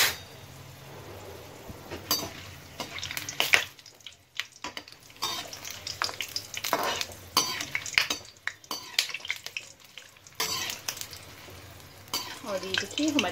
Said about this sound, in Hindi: और ये डाल दूंगी मैं बड़ी इलायची, और साथ में लौंग भी डाल दूंगी, और ये काली मिर्च भी डाल दूंगी, और इसको थोड़ा सा ब्राउन होने देंगे